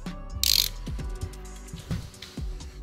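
Ratchet snugging the bolts on a Cadillac oil pump during a rebuild, a few quick close bursts of clicking pawl strokes with short pauses between, loud and alone without speech.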